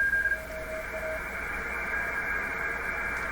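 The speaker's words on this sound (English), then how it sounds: "There's some Morse code" Morse code on a shortwave band, received through a Telefunken Salzburg 5094W console radio: faint, quick beeping tones keyed on and off beneath a steady wash of static and a constant hum.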